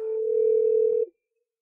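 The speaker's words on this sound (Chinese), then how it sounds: "怎么突然把电话给挂了？" A single steady telephone tone rings out alone for about a second after a call is hung up, then cuts off sharply into silence.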